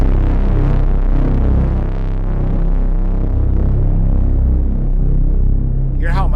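A deep, sustained braam note from a modular synth sent through reverb, a loud, dense low rumble that throbs and hangs steadily throughout, with a brief voice cutting in at the very end.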